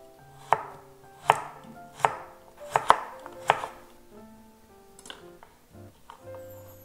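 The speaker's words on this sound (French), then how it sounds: "Et je coupe fin." Chinese cabbage being finely chopped with a knife on a cutting board, as a cook prepares ankake rice. About six crisp, evenly spaced strikes ring out close and loud, then give way to softer, scattered cuts.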